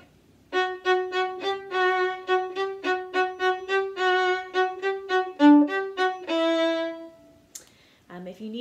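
Beginner ensemble students play the song Fall or Autumn, a run of short, evenly spaced instrumental notes followed by a few longer held tones, close and clear, with a brief voice near the end.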